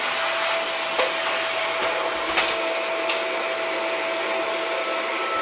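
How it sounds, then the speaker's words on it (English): A Shark vacuum cleaner runs steadily with a loud, even broadband whine, broken by a few brief clicks and knocks as it is pushed around. "Good old vacuum."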